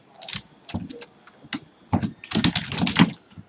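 Keys on a computer keyboard click in short irregular bursts of typing, close and crisp, with brief pauses between clusters of keystrokes.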